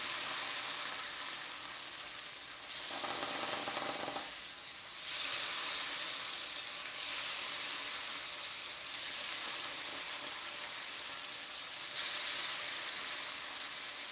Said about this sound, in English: Let's see if we can get a little bit of a sear on this pineapple.